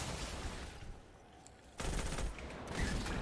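A Stasis grenade thrown in the Destiny 2 video game bursts at about the midpoint, loud, then sustained crackling and shooting-like game effects, with the intensity dipping and building again.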